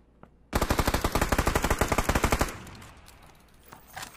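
A loud automatic weapon fires one rapid, sustained burst of roughly two seconds in the battle royale game PUBG, each shot sharply distinct, then it cuts off into quieter ambient game noise.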